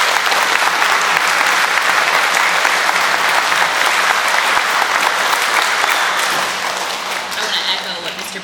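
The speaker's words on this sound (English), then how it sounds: "Give yourself a round of applause," Loud, sustained applause from a school audience at a Veteran's Day program, dense clapping filling the whole stretch and easing slightly toward the end.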